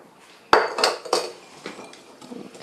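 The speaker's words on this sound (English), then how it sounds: "And now you're going to whisk that." A whisk clinks and scrapes against a bowl as granulated sugar mixture is beaten, giving a few sharp metallic strikes followed by softer, quickening rattles, close and alone.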